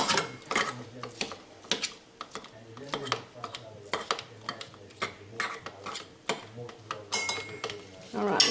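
Home-canned tuna is flaked in a dish with a utensil, producing a series of light clinks and scrapes at irregular intervals, close and fairly quiet, with a person talking in between.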